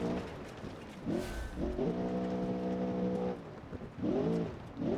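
Off-road muscle car engine in BeamNG.drive on a gravel circuit, revving in strong harmonic surges that rise and fall, with a sustained pull in the middle and another rev near the end, loud and close.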